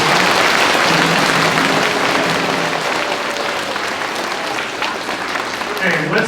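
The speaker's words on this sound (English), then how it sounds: "Let's give a round of applause to all of our participants" An audience at an elementary school Veterans Day assembly applauding the participants, a dense, loud, sustained wash of clapping that tapers slightly toward the end.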